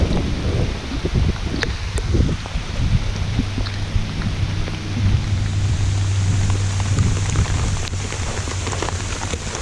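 Heavy rain hisses steadily at a tent campsite in Ohio, with scattered drops tapping nearby and a low rumble underneath throughout.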